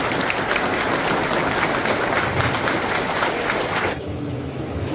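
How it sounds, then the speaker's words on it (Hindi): A crowd at a youth organisation's career counselling and drug awareness event in India applauds loudly and steadily, then the clapping stops abruptly near the end. "सो बहुत जोर से ताली बजना चाहिए for sing for youth organisation"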